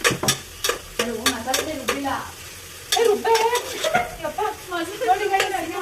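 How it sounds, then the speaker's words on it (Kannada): Onions frying in hot oil and ghee in a pressure cooker, with a steady sizzle and repeated scrapes and clinks of a spoon stirring against the metal, close by, while a voice talks over it. "ಈರುಳ್ಳಿನ ನೀಟಾಗಿ ಫ್ರೈ ಮಾಡಬೇಕು"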